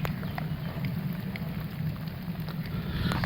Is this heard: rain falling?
yes